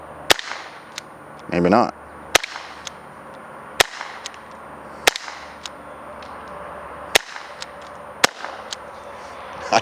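An Umarex T4E TR50 less-lethal revolver fires about seven sharp, loud shots at even intervals, each a crisp crack with a short tail. A brief spoken remark falls between the first shots.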